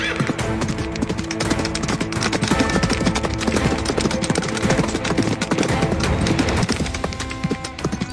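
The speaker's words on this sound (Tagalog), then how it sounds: "At sa pagtakbong muli ng mga kabayo" Horses gallop with dense, rapid clip-clop of hooves, loud and continuous throughout, with no voices.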